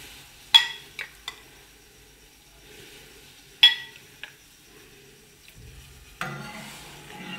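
A spoon scrapes and clinks against a hot pan as soaked garden cress seeds are stirred in heating water: a few sharp metallic strokes spaced apart, then a softer bubbling, simmering sound near the end, close and without talk.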